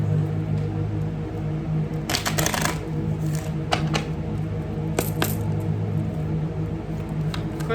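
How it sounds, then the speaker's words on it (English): A tarot deck shuffled by hand, with two clear bursts of riffling cards and a few sharper snaps over a steady low room hum; no talking. "I've been shuffling."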